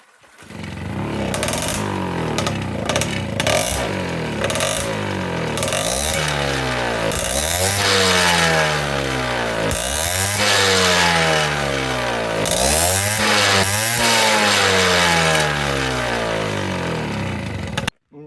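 A Peugeot 103 MVL two-stroke moped engine starts and revs repeatedly, its buzzing pitch sweeping up and falling back in a series of loud throttle blips heard close up throughout.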